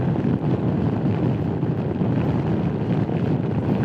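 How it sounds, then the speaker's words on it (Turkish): Steady loud wind roar buffets the microphone while riding a Honda Forza 250 scooter on a long highway trip, a dense continuous rush with no voices. "biraz rüzgar alıyorum galiba"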